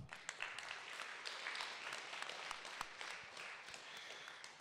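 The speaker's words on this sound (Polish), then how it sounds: "Ogromne brawa." Audience applause at a Polish sports event honouring the mayor of Rzeszów, a steady broadband patter of many hands clapping at a moderate, somewhat distant level, with scattered sharper claps standing out.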